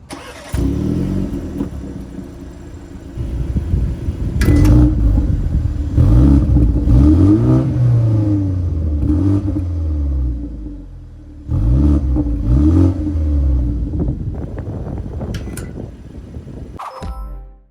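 A BMW 3 Series engine revs up and down repeatedly, rising pitch sweeps with a throaty exhaust note, loud and close, with a brief drop before a final rev.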